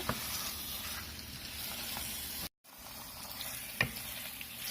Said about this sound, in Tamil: சிக்கன் சேர்த்துட்டு மசாலா கூட நல்லா மிக்ஸ் ஆகுற மாதிரி நல்லா கலந்து விட்டுருங்க